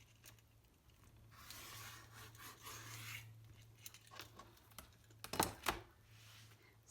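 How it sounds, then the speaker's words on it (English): Fabric being cut along a marked diagonal line while making half square triangles for quilting. It comes through as faint, close scraping and rubbing strokes, with a few sharp ticks near the end. "So this time we're going to cut on the purple diagonal line that we drew."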